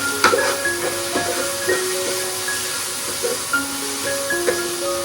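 Soy sauce frying in a pan while cooking pasta, giving a steady hiss with soft sputtering and a few faint clinks.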